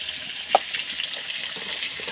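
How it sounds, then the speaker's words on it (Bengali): Potatoes for curry fry in hot oil in a pan with a steady, close sizzle, broken by a brief spoon clink and a few small pops, with no one speaking. "এই ঝোলের আলুটাকে লাল করে একটু ভেজে নেব"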